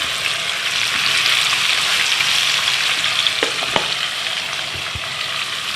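Parichay fries in hot oil over a medium flame, giving a loud, continuous hissing sizzle that stays steady throughout, with a couple of soft thuds as the pieces are moved.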